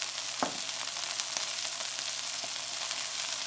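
Burger patties sizzle steadily on a flat griddle, a continuous close hiss with a few faint clicks of utensils and no talk.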